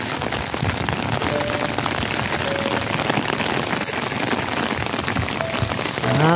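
Steady rain patters densely on an umbrella overhead, a constant close drumming with no voices.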